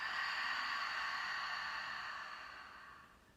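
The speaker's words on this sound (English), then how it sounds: "open your mouth, exhale your air out." Deep exhale through an open mouth during a yoga breathing sequence, a steady breathy rush lasting a few seconds that slowly fades toward the end, close and alone.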